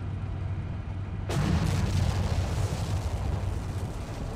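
A loud explosion booms out in a tank-battle video game, a sudden broadband blast about a third of the way in that leaves heavy rumbling noise behind, with no talk during the clip.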